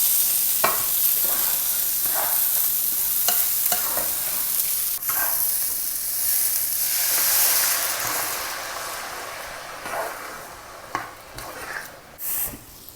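Spices are stirred into rice in a hot pan for a paella-style dish, a steady sizzling hiss running throughout with scraping strokes of the spoon recurring every second or so, louder and busier toward the end.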